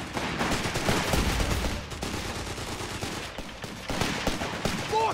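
Rifle fire in the Company of Heroes 3 war game, with dense bursts of gunfire and rattling shots crackling continuously through a loud battlefield din.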